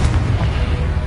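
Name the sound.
Confringo spell explosion from video game Hogwarts Legacy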